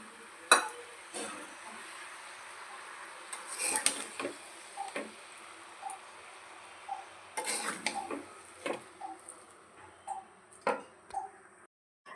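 Vinegar and dry spices being mixed into a homemade pickle in a bowl, with scattered small clinks and taps of a spoon against the container, soft and close with quiet gaps between.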